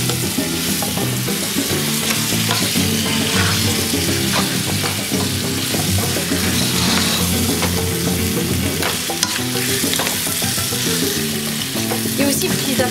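Ingredients for a Moroccan meat tajine in sauce sautéing in a pot, a steady loud sizzle with repeated scraping and clacking of a stirring utensil throughout, no talking.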